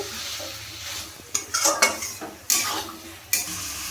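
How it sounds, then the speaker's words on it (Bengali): Chicken being stir-fried in a pan with kasuri methi for masala chicken: a continuous sizzle under repeated scraping and clacking of a spatula against the pan, with several sharp stirring strokes. "কাসুরি মেথিটা দিয়ে আমি আবার চিকেনটাকে ভালোভাবে কষিয়ে নেব।"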